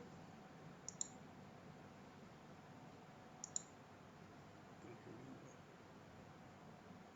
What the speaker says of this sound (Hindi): ऑर्डर के ऊपर क्लिक करेंगे।